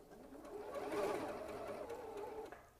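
A sewing machine stitches quilt pieces for a bow tie quilt, running in one steady whirring burst of just under two seconds, close and moderately loud, with its motor hum rising and then easing off.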